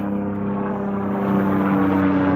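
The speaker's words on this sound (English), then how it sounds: "these fucking helicopters are interrupting me" Helicopters flying overhead drone steadily with a low engine hum and rotor rumble, loud and continuous throughout, with no voices.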